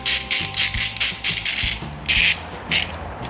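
A ratcheting screwdriver backs a tiny screw out of a Quadlock wireless charge mount, giving close, loud bursts of quick clicks in short uneven strokes with brief pauses between.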